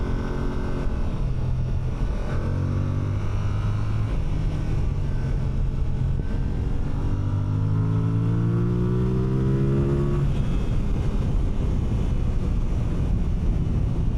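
Exhaust note of a 2026 Yamaha R7 motorcycle while riding, a steady engine drone with rising and falling pitch sweeps as it revs up through gears, heard close and loud over constant wind rush.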